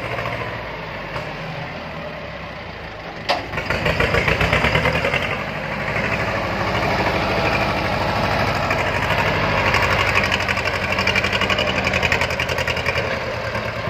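A 90-horsepower four-wheel-drive tractor engine starts and settles into a loud, close, rattling idle with a steady knocking diesel pulse that runs on without pause and without any talk.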